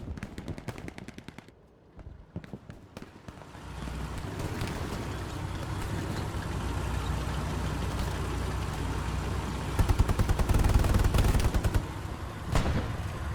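Gunfire exchange in the WWII shooter Hell Let Loose: a continuous crackle of rifle and machine-gun fire, sometimes distant and sometimes close, over a constant windy battlefield rumble, heaviest toward the end.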